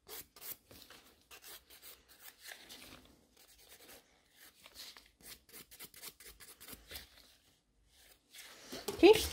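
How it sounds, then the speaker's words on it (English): A nail file rasps gently over sculpted almond-shaped gel nail extensions in short, irregular strokes, quiet and close, with brief pauses between passes and a louder scrape at the end. "You can see how gently I'm filing, because I really want to smooth out the places which are misshaped."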